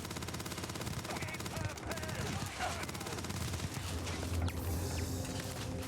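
Turrets open fire in the Starfield video game, dense bursts of automatic gunfire layered with game sound effects and a steady hum, near and loud, with a voice talking over parts of it.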